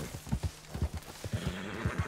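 A horse's hooves clop in an irregular rhythm while the animal gives a whinny, close and fairly quiet, in the Red Dead Redemption 2 video game.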